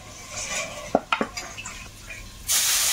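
Parshe fish is set into a wok at a Sundarbans home kitchen: a few sharp metallic clinks and scrapes of pan and utensil, then a loud hiss of oil bursting up near the end, close and without talk.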